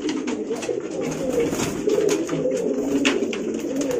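Pigeons in an indoor loft coo continuously, with low burbling calls overlapping close by and a few sharper clicks and flutters mixed in.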